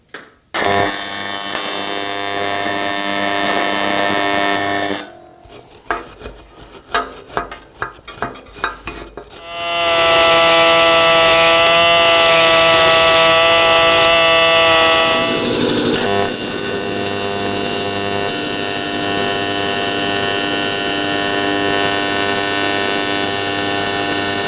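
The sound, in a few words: welding crankcases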